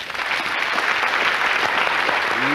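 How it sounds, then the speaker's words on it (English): A stage magic show audience breaks into loud, sustained applause for the magician's assistant, a dense wash of clapping that swells quickly and holds steady throughout. "we give a nice round of applause to the medium, Miss Debbie McGee"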